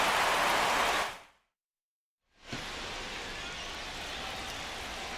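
Steady hiss of heavy rain falling on a baseball stadium in MLB The Show 25, dense and even, cutting out completely for about a second before returning just as strong.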